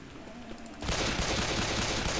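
Rapid gunfire in the co-op shooter Left 4 Dead 2 erupts partway through, a dense burst of shots crackling continuously after a quieter opening.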